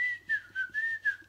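A person whistling the Andy Griffith theme tune, a thin wavering melody in short breathy phrases with brief gaps between them, close and fairly quiet.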